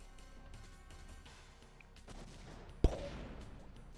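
Rudy's hand cannon firing in the Wild Arms role-playing game, a single sharp, loud blast cracking out over quiet battle ambience, followed by a brief rumbling decay.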